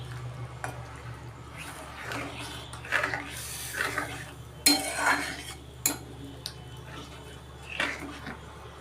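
Posto paste is mixed by hand in a bowl with a little water, soft squishing and wet smearing punctuated by a few clinks against the bowl, close and fairly quiet, with no talk.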